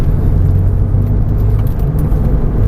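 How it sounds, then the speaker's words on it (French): A Porsche 911 accelerating on the Marcoussis race track, a loud, steady engine roar that holds strong and close throughout with no pause, heard alone without talk. "On freine, attends le cône, on lâche les freins. On accélère."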